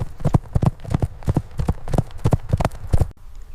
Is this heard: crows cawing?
no